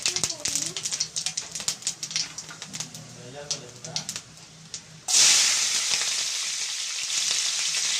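Cumin, onion, green chillies and curry leaves frying in oil in a kadai, first a crackling sizzle with clicks and scrapes under a woman's speech, then a sudden loud steady hiss as ingredients hit the hot oil.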